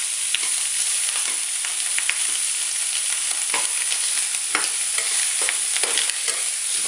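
Shrimp with garlic and onion stirred in a frying pan: a steady, close sizzle with repeated scraping and clinking strokes of a utensil, no voices.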